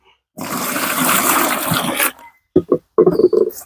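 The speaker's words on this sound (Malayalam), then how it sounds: "അതിനകത്തേക്ക് നമുക്ക് ആ ബക്കറ്റിൽ വെള്ളം കൂടെ ഒഴിക്കാം" Water pours from a bucket into a large plastic tank in a loud, steady gush lasting under two seconds, then a few short splashes and trickles follow.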